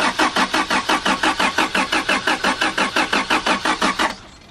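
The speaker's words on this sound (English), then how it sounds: "throttle off and just crank it a couple more times." A Honda Integra DB1 with a turbo B18B1 engine, built with Nippon pistons and Scat rods, cranking over on a cold start: about twenty steady, even starter-driven pulses that stop abruptly, with no catch or firing.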